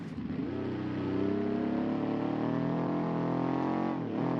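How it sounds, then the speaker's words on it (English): A boxer-engine car driven in the BeamNG racing game, its engine note droning loud and steady, then climbing and revving harder before easing off near the end. "Yeah, it's really it's a boxer."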